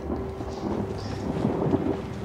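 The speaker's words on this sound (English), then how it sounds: "It's raining outside, making up for a nice atmosphere." Steady rain pours outside in the horror video game Outlast, a dense continuous hiss with a low rumble of thunder underneath, no voices.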